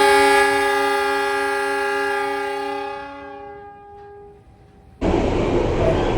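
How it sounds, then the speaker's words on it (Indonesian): Mutiara Selatan passenger train departing Nganjuk station, first a long loud harmonic horn blast that fades out, then an abrupt burst of broadband rumble and rail noise from the moving train close by. "baru aja kereta api Mutiara Selatan berangkat dari stasiun Nganjuk"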